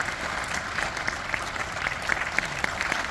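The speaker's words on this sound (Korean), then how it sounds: "큰 뜨거운 박수를 보내주셔야 할 때인 것 같습니다" Applause from residents at a community briefing on redevelopment, a steady wash of many hands clapping through the whole stretch, moderately loud and without talk over it.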